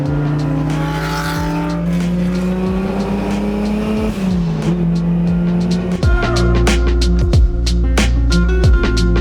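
Porsche 911 SC engine droning loudly and close as the car drives, rising and shifting in pitch with gear changes, with tire noise and a heavier surge of revving toward the end.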